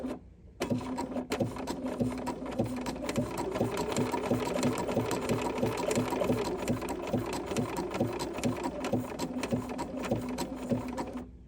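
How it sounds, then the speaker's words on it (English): An overlock sewing machine stitches with a fast, regular mechanical chatter and hum. It starts abruptly, runs loud and close at a constant pace, and eases off near the end. "we're gonna lower our presser foot and we're gonna stitch"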